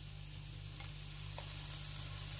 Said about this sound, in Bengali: তো চলো ভালো করে 2 মিনিট ধরে ডিম আলুটাকে কষিয়ে পুরটাকে রেডি করে নেব